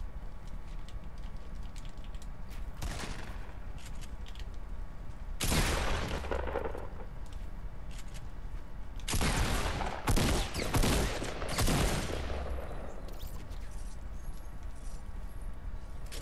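Gunfire in a shooter video game, with bursts of loud, close shots around three, six and nine to thirteen seconds that are separated by quieter stretches of background noise.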